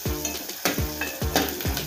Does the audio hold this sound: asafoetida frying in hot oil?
yes